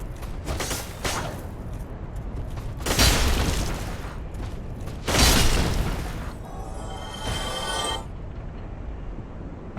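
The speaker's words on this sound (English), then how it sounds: "You noticed about the explosions, I'm glad." Explosions in the video game Dark Souls: several muffled booming bursts at irregular intervals, moderately loud over a low rumbling background, with a crackling, sparkling tail after the last one and no talking.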